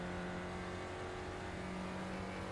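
A Spec Racer Ford engine in iRacing at Sebring drones at high revs with a steady tonal whine and harmonic buzz, held constant and close throughout.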